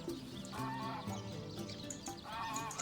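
Faint rooster crowing and clucking sounds in Divinity: Original Sin, heard as several short, bird-like calls scattered across a low, steady game background.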